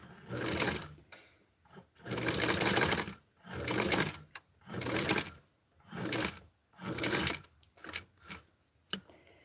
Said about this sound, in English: I see that I missed right here, so I'm going to sew this again.